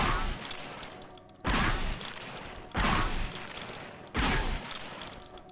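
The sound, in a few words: shotgun firing four shells at once in video game Gunman Chronicles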